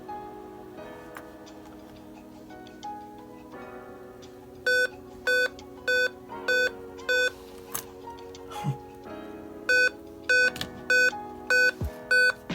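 A $10 Alienware laptop, freshly plugged in, gives a run of short, clear electronic beeps in evenly spaced pairs and groups, repeating over several seconds against a quiet room hum.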